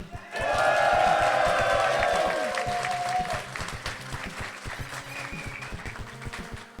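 A live audience at a speedrun event bursts into loud applause and cheering, peaking early, then thinning to scattered clapping and whoops while a voice talks over the tail.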